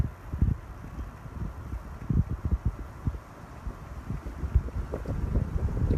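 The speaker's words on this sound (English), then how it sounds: "Ooh, it's like windy right now." Gusty wind blowing outdoors on a nature walk among trees, rumbling and buffeting the microphone in uneven low gusts throughout, with no talk.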